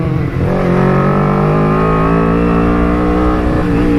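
A carbureted Kawasaki Ninja 250cc motorcycle held at steady high revs through a corner on a tour, a loud close engine whine with a brief dip early on, no voices.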